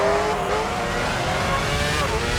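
Formula One car engines roar steadily at high revs in the F1 06 racing game on PS2 at the Malaysia Grand Prix, a dense continuous whine that stays loud throughout.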